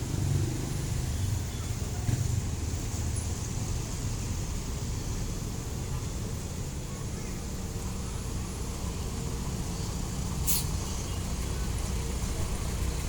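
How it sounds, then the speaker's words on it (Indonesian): A bus creeps through slow, congested afternoon traffic on Jalan Daan Mogot, a steady low engine rumble and road noise holding at a constant level throughout, with a brief brighter hiss near the end. "bus akan melanjutkan perjalanan"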